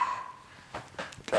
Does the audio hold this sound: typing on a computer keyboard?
no